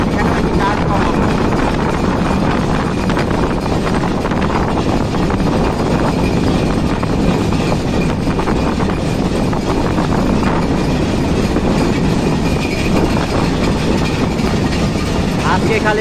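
Chilahati Express passenger train rounding a long curve, a loud continuous rumble and rattle of wheels and carriages heard from on board, steady and unbroken for the whole stretch.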